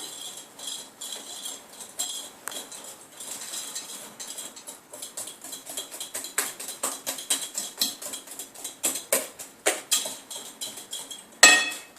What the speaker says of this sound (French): Je vais mettre le sucre avec les œufs. Et je mélange avec un fouet doucement.